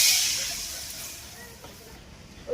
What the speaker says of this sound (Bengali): কড়ার মধ্যে আমি